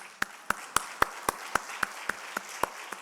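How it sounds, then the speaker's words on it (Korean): A church congregation at a fasting prayer retreat claps in unison, about a dozen sharp, evenly spaced claps in a steady quick rhythm, fairly distant and moderately loud over a quiet room. "박수 안 쳐?"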